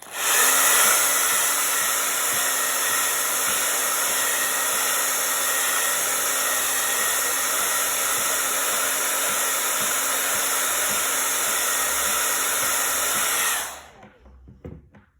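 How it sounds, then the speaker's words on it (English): A hair dryer blows steadily up close to dry a coat of white paint, a loud continuous whooshing hum lasting about thirteen seconds before it switches off and winds down, leaving faint handling noise. "I'm gonna cheat blow dry"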